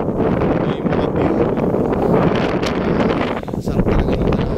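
Strong wind blowing across Mount Gulugod Baboy in Mabini, Batangas, a loud, continuous roar buffeting the microphone with gusty surges and rustling throughout.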